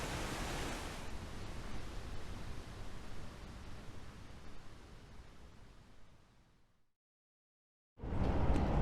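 Rushing water from waterfalls in a Scottish forest glen along the Rob Roy Way near Aberfeldy, a steady broadband roar that fades out, drops to silence, then returns loud at the end.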